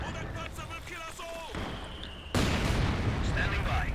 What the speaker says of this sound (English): I have my own guard rifleman here taking some shots on them.